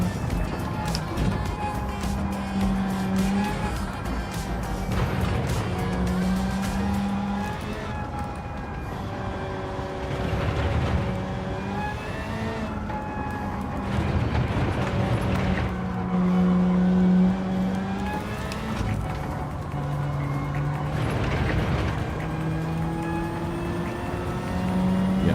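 Race car engine in Gran Turismo 7 revving and shifting through gears, a constant loud drone rising and falling in pitch for the whole stretch, with a voice talking faintly underneath.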